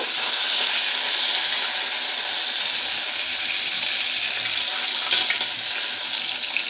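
Rui fish pieces frying in hot oil, a steady loud hiss and sizzle that stays constant throughout, with no voices over it.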